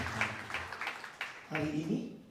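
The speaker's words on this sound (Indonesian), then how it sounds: "Beri tepuk tangan dulu." A church congregation at a Sunday service claps in scattered bursts over a couple of seconds, with a voice speaking over and after the clapping.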